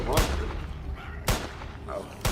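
Gunshots in a movie scene, three sharp, loud bangs spaced about a second apart, each with a short ringing tail over a low background rumble.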